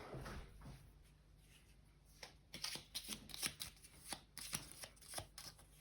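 Cards being shuffled close by: soft riffling followed by a run of crisp, rhythmic slaps and flicks as the deck is handled.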